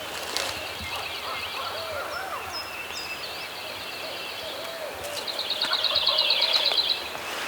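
A wild turkey gobbles in rugged South Carolina terrain, a distant call among other birdsong and a longer trilling bird call.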